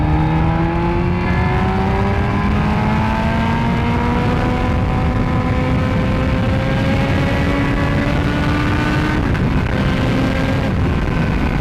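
An old-school carburetted superbike with no ABS or electronics accelerates hard, its engine note climbing steadily through the revs, loud and close under constant wind roar.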